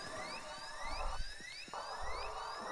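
An electronic drill whirs through a bank heist in a GTA 5 session, a steady whine with repeating rising chirp tones sweeping upward, running alone in the foreground with a brief dip midway.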